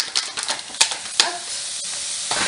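Bacon lardons sizzle in a dry pan with no oil, a hissing fry broken by a few short stirring scrapes and spatters.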